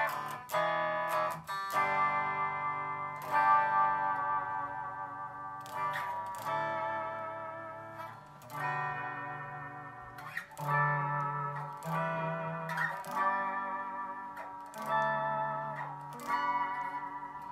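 Ibanez AZ2402 electric guitar with a clean tone plays ringing chords and single notes in an unhurried phrase, sustaining between picked attacks.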